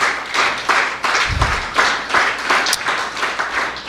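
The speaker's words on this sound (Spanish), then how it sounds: "Dale un fuerte aplauso a Cristo Jesús." A church congregation clapping for Christ Jesus after a sermon, a brisk moderately loud round of hand claps with a dull thump partway through, no speech over it.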